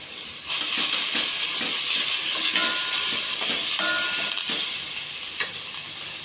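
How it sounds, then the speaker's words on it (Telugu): Chopped onions frying in a pan give off a steady loud hiss and sizzle, broken by a few scraping stirs. "కోసి పెట్టుకున్న ఉల్లిపాయలు, కొంచెం దోరగా వేయించాలి"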